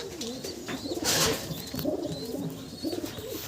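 Madrasi pigeons coo in soft repeated bursts, with a few higher chirps and calls mixed in, fairly close and steady over a light background.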